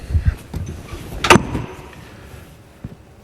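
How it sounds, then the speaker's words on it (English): An over-centre handbrake on a trailer with Knott or AL-KO brakes is applied and released, giving a few close mechanical clunks and one sharp metallic clack in the middle, with quiet pauses between. "Apply the handbrake, then let it off again"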